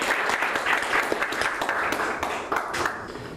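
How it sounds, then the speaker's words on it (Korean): Applause fills a forum hall on Seoul's gender-responsive budgeting as the Seoul Metropolitan Council vice-chair is welcomed: dense, steady clapping from a crowd, loud and continuous throughout and easing slightly toward the end. "큰 박수 부탁드립니다"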